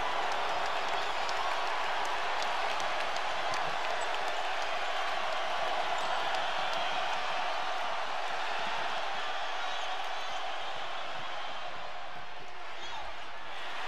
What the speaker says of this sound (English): Couisnard unloads a three. And now the crowd will ignite in Columbia.